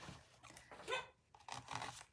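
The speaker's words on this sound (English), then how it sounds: "If I let her in, maybe she won't bark." A pet dog barks and yelps a few times at home, faint and distant, in short uneven bursts.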